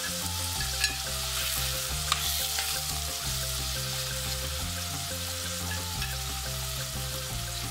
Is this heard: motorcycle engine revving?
no